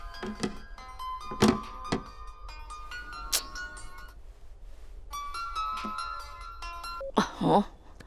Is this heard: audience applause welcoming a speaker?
no